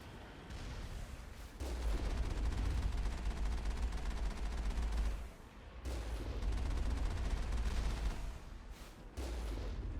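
Sustained turret gunfire in Mass Effect, a dense continuous roar of shots broken by brief pauses, steady and fairly loud, with no talking.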